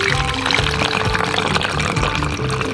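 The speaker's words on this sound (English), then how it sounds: "We need to pour it into this bottle." Boiled orange peel water poured into a bottle for homemade mosquito repellent, a continuous, fairly loud gurgling pour with splashing and a rising fill tone, no talking over it.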